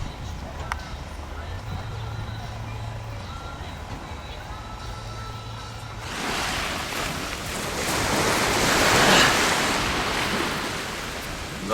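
Black Sea surf breaking on the shore in wind, starting as a low steady wash and swelling louder and rougher in the second half, with wind buffeting the microphone.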